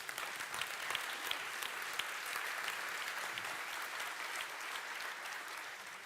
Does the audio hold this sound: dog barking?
no